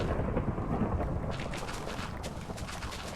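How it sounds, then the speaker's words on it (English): A video game thunderstorm rolls through as a dense, steady rumble of thunder with a rain-like hiss, brightening partway through and staying loud and unbroken for the whole moment. "I think this is a thunderstorm."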